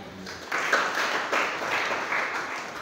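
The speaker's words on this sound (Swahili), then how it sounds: "Kama umesikia pigia Yesu makofi" A church congregation applauding for Jesus during a sermon, a dense swell of many clapping hands rising after a brief lull and holding steady, with faint voices mixed in.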